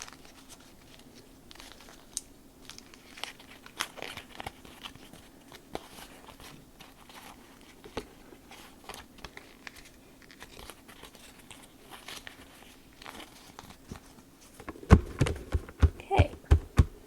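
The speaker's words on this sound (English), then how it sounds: "And I'll crumple it one way and then another way." Water-softened thick paper is crumpled by hand in repeated soft crinkles, close by and fairly quiet, building to a louder cluster of crunching crackles near the end.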